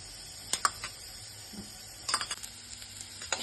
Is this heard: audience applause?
no